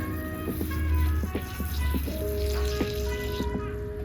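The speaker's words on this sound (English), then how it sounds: "give it a bit of water." Water trickles and splashes into an anthurium pot, soft gurgling drips under a faint background hum, close and gentle.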